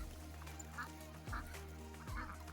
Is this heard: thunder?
no